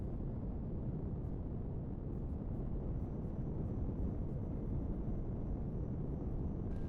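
A spaceship in Empyrion Galactic Survival makes a quick flyby, a steady low roaring rumble of engine noise that holds evenly throughout with no talk.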